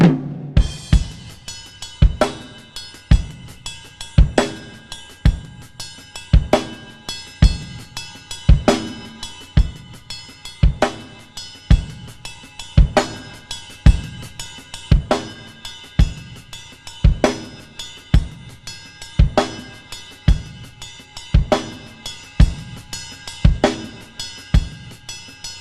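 Drum kit groove in 6/8 played on bell, closed hi-hat, snare and bass drum, a steady lilting pattern of sharp, close hits with a ringing cymbal wash, repeating evenly throughout without talking.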